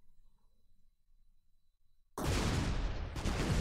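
A shot fired in the tank artillery game Shellshock Live: near-silence gives way to a sudden loud, broadband blast that sustains and roars for over a second, with a second surge near the end.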